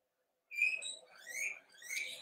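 Indoor pet birds break into a quick run of close chirps and whistles after a brief silence, three or four overlapping calls, bright and moderately loud with no talk.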